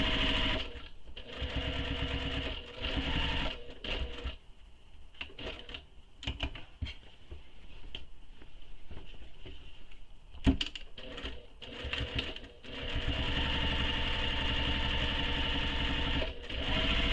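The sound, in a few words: sewing machine stitching a tote bag pocket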